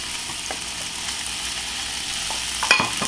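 Chopped bell pepper going into a hot pan with chorizo for queso fundido, heard as a steady close sizzle with light stirring scrapes and one sharp clatter near the end, with no talking.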